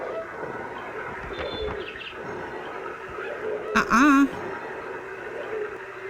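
Bird calls and a brief cooing, warbling call rise over a constant murky background hum in an analog horror film, with a sharp burst of sound near the middle.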